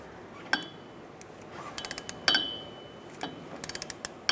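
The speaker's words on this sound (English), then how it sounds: "now we're going to torque the back one here with the Allen head, and that is 22 foot-pounds" A torque wrench tightens an Allen head bolt on the front drive shaft of a 2002-2005 Ford Explorer, giving sharp metallic ratchet clicks in short bursts and a few rapid click runs, close and fairly quiet.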